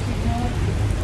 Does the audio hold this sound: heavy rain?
yes